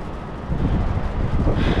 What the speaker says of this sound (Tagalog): Very windy ngayon